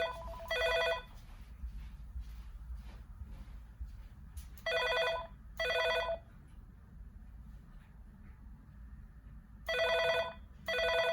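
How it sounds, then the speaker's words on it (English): A Panasonic KX-TG222B DECT 6.0 cordless phone rings in bursts of two electronic trills, then a pause before the next pair, fairly quiet in a room with low background hum. "now I'm gonna call the testing phone here and leave a message"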